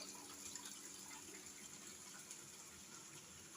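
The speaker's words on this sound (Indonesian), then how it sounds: "mengalir air terjun, jadi suaranya itu menenangkan sekali, suara gemericik airnya" Water splashes and trickles down a small garden waterfall on a home terrace planted with greenery, a steady, even wash of sound that continues unbroken and fairly soft throughout.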